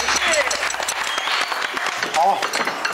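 Studio audience at a cooking show clapping in a brief burst, with talk and voices mixed in over the applause throughout.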